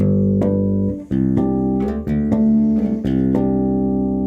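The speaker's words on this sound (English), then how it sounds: "the harmonics are several octaves higher. So instead of playing chords that sound a little too deep or muddy" A run of bell-like harmonic chords on a bass, each struck crisply and left ringing, about eight in a slow steady sequence with no voices.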